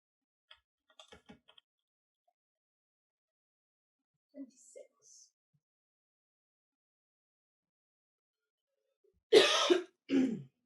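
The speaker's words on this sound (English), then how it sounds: "Are you okay? This is the most you've coughed all day." A person coughs twice in quick succession near the end, sharp and close, after a long near-silent stretch with a few faint clicks and small throat sounds.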